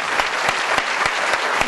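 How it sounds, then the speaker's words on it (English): A live audience claps in applause for a group of named volunteers at a mentalism show, steady dense clapping with sharper individual claps standing out, close and fairly loud throughout. "Give them a round of applause."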